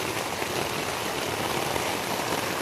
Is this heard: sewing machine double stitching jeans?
no